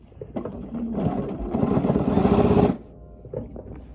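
A Bernina sewing machine quilts a Georgia Beauty quilt with rulers. A short, loud burst of fast stitching starts and stops, then a few faint stitches follow.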